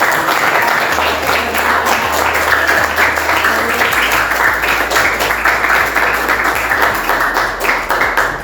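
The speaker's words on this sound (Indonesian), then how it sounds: "Oke, sip, kita beri tepuk tangan." Students in a classroom clap together, a loud, dense, steady burst of applause lasting several seconds, with a faint low hum underneath.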